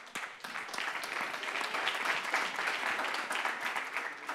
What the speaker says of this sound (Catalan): Un fort aplaudiment, sí senyor.